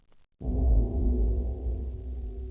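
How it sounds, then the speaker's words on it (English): After a brief quiet moment, a deep, rumbling whoosh swells in abruptly and continues as a dense, eerie low drone. "This is the sound of Venus."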